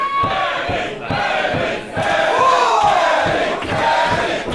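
Loud wrestling crowd roars and chants in support of Emi Sakura, a dense sustained wall of voices that swells and dips in waves.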